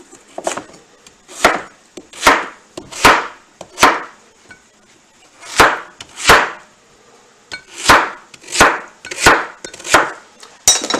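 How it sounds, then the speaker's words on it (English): A knife chops potatoes into one-inch cubes on a wooden board: crisp, close thuds come in uneven bursts, a few quick cuts, then a short pause, then more. "I'm cutting up your nice potato. I'm going to cube these about 1 inch in size."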